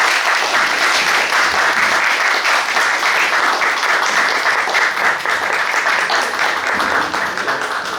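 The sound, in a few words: audience applause welcoming film director and actors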